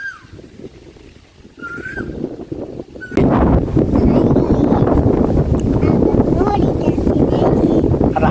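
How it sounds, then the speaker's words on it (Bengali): At Akundabaria river ghat near a rubber dam bridge, quieter at first, then a sudden loud burst of wind buffets the microphone and roars on steadily, with faint bird calls early on. "অফুরন্ত বাতাস"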